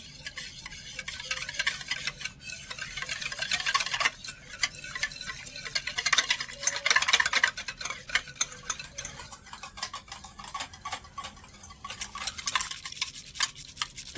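A spoon stirs poured milk into a mixture of mango pulp and yogurt for homemade raw-mango curd, making a steady wet scraping and swishing that continues close-up for the whole stretch with no voices.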